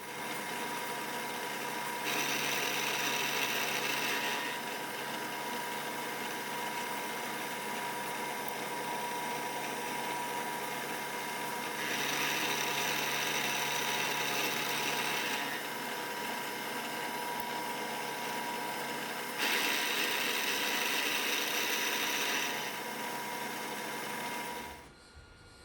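Steady mechanical drone of a milling machine cutting with a 2-flute 1.5 inch high-speed steel cutter, with three long passes where a brighter cutting whine rises over the running motor, which cuts off at the end.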